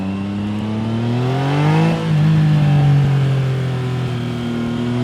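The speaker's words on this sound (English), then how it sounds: "Do you like the sound of the quick shifter? Down to first for these hairpins look in the wet" Triumph Trident 660 triple on a wet road, quick shifter downshifting to first for a hairpin: a steady close engine note that blips and drops pitch briefly at the shift, then settles into a smooth, lower drone.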